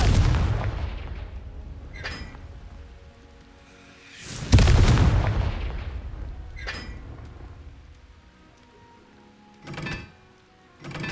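A Confringo blasting spell explodes in Hogwarts Legacy as a heavy, booming blast midway through, set among several sharper magical cracks and whooshes, with a deep rumbling tail that fades slowly between effects.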